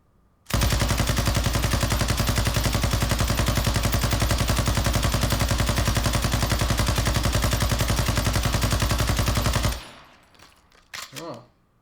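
In Call of Duty Warzone 2.0, a Sakin MG38 machine gun fires one long, loud, unbroken burst of rapid shots for about nine seconds, then cuts off, followed by a few faint mechanical clicks.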